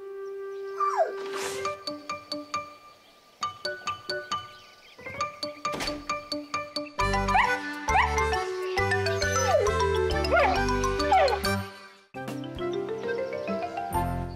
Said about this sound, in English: Snuffy is a lovely little dog